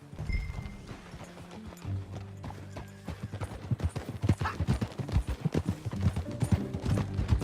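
Horse hooves from the video game Red Dead Redemption 2 clip-clop on hard ground, sparse at first, then settling into a quick, steady galloping rhythm up close.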